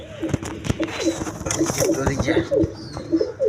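Pakistani Kalpit pigeons coo in soft repeated throaty phrases at close range, mixed with rustling and flapping, while someone talks intermittently over them.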